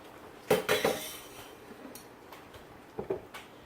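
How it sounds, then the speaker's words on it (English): A medium-sized metal saucepan lands on a stove with a few close clanks and clinks in quick succession, then a softer pair of knocks after a short pause, in a quiet kitchen. "I'm going to go ahead and put this medium-sized saucepan on about medium heat."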